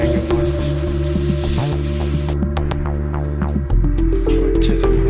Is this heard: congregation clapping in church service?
no